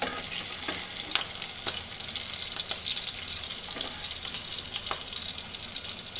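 Pieces of catfish fry in hot oil with a steady, bright crackling sizzle, punctuated by a few sharp pops and spatters throughout.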